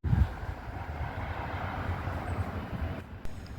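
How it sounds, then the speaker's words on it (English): A London Underground train rumbles past Mill Hill East station, a steady broadband roar with low rumble sustained throughout, heard from nearby with no talk. "you can actually watch the trains go by"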